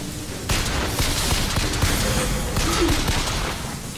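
Sustained video game gunfire in BioShock Infinite during a combat fight, a dense, continuous barrage of shots with booming low thuds running the whole stretch, fairly loud and steady with no clear gaps.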